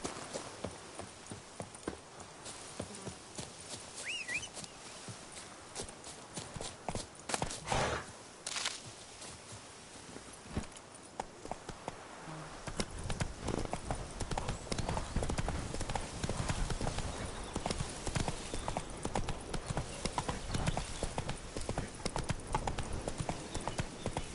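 Hoofbeats of the horse Roach in The Witcher 3 clatter as a sharp clip-clop, sparse at first, then building into a dense, continuous galloping rhythm that stays loud and close through the second half.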